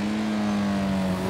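A car engine in GTA V Online holds a steady, droning rev with a slowly rising pitch, loud and close, with no talk over it.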